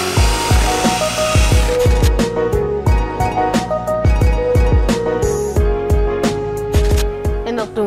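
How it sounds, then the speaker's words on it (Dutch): A power drill whirs in repeated short bursts, biting into wood with sharp clunks and rattles between runs. "Pakken we de boormachine,"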